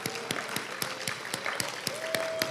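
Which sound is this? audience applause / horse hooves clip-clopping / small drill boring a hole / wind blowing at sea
audience applause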